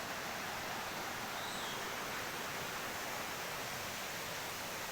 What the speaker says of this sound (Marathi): बाराही महिने पाणी असतं या नदीला खळखळ वाहणारी नदी पाहू शकता